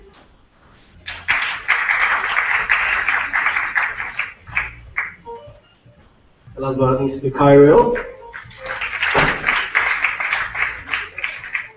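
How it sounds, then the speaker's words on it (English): An audience at the KREA8TIF 2014 conference breaks into two bursts of hearty applause, with a speaker's amplified voice talking between them. "Big round of applause once again"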